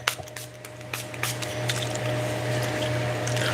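A spray bottle of Florida water gives a few short, close spritzes near the start, followed by soft misting and faint drips over a steady low electrical hum.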